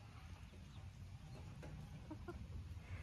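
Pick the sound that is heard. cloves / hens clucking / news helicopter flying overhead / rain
hens clucking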